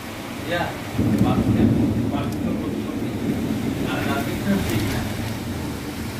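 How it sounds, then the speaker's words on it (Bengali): A violent Kalbaishakhi storm in Kolkata with heavy rain, heard through a slightly opened window: a steady, loud roar of wind and rain with low rumbling swells, and faint voices over the top. "মারাত্মক ঝড় হচ্ছে আমি তো একটুখানি জানলা খুলে রেখে দেখাচ্ছি এটা আপনাদেরকে"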